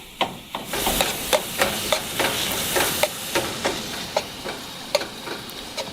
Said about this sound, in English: Oh yeah, let that sizzle already.